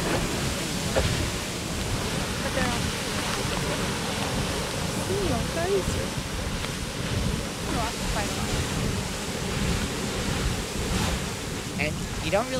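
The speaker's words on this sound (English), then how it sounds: "It's more of a boiling water sound." Grand Geyser at Yellowstone erupts with a continuous broad rush of churning, boiling water, steady and moderately loud, mixed with wind buffeting and faint crowd voices in the background.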